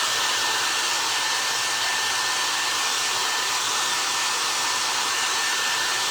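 A hair dryer runs steadily and loudly on a fast setting, blowing over a paper mache primitive mouse made with spun cotton; an unbroken whoosh of air with a faint motor whine, no talking.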